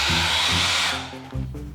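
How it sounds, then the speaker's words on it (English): A hairdryer blows loud, close and steady while heating a D-brand skin, then cuts off and restarts briefly, leaving a lower whirring hum. "Apparently we have to apply heat with a hairdryer to this part sticking out."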